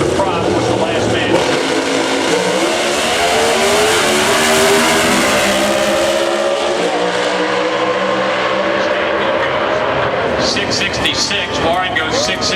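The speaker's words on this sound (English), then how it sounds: "the GM Performance Parts Pontiac, Warren Johnson, getting set to make the run" Warren Johnson's GM Performance Parts Pontiac pro stock drag racer roars loudly through a run at an NHRA national event in Seattle, its engine pitch sweeping up through the gears while a commentator talks throughout.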